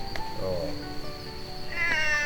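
A stray cat meows twice, close and fairly loud, with a short mew followed by a longer rising cry over steady background hum.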